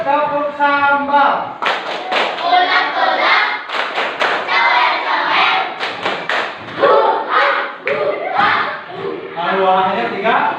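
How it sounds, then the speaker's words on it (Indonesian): Children in a classroom perform the 'tepuk sambal' clapping chant, loud sharp claps in quick rhythmic groups interleaved with shouted chanting voices, close by, following an adult's spoken cue. "Lanjut, tepuk sambal."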